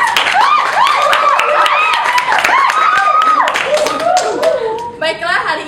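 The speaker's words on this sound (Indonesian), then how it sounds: "Berikan tepuk tangannya." An audience at a Miss Accounting 2015 final night pageant applauds with scattered hand claps, while a voice talks continuously over it.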